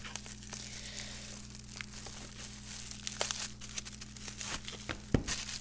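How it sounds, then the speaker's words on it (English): Scissors work at the plastic shrink-wrap on a Pixie's Whisper Tarot Christmas deck, giving steady close crinkling and crackling of plastic with a sharper snap near the end. "my scissors do not even want to break this open"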